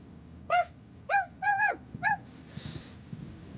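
A person imitates a dog barking during a drinking game: four short, voiced woofs in an uneven rhythm, close and clear, then a faint breathy trailing sound.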